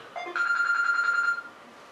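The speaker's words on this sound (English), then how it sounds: "Oh, the telephone is ringing." A telephone gives a single electronic ring lasting about a second, a clear steady tone heard fairly close with no talking.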